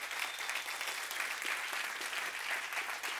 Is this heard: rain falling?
no